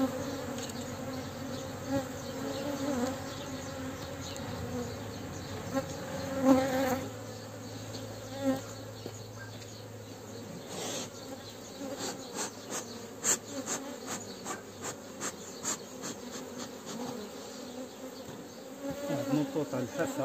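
Honeybees swarm around an open beehive as frames are handled, a dense, steady close buzzing with individual bees droning past and faint scraping and knocking from the hive work.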